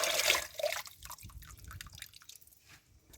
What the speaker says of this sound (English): So we're going to wash our vegetables in a lot of water.